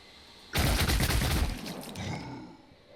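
A close, loud burst of gunfire from a turn-based sci-fi tactics game, Phoenix Point, rattles for about a second and then trails off through a fading echo.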